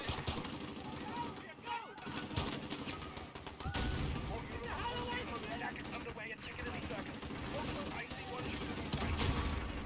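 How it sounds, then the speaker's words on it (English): Rapid bursts of automatic and single-shot gunfire from a Modern Warfare shooter game, loud and dense, with crashes and shouting voices talking over the firefight. "They're firing from the windows?"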